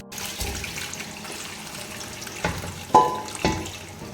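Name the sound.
cooked chicken added to frying biryani masala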